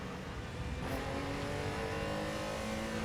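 A race car in a racing video game at Buenos Aires brakes and shifts down through the gears into a chicane, its engine note droning and stepping down steadily, with no voices.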